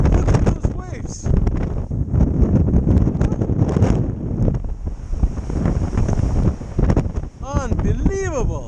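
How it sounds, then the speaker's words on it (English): Ocean waves crash and roar continuously during a blizzard, with heavy wind buffeting the microphone throughout at close range and loud volume and no clear break in the noise. "Look at those waves."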